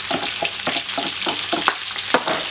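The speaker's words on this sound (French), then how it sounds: "Alors maintenant que mes saucisses sont bien dorées, nous allons pouvoir ajouter nos oignons." Onions sizzle in a pan with browned sausages for a Réunion-style saucisses boucanées recipe, stirred in a steady rhythm of scraping strokes over the constant fry, close up with no talking.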